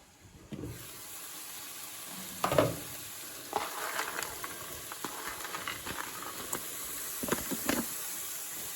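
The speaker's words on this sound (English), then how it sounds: "let the heat build back up in the pan, then put the next lot in" Minced beef for a hotpot sizzles steadily in a hot pan, with a few sharper bursts and scraping stirs as fresh meat goes in; no one speaks.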